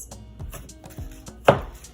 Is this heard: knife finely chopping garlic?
yes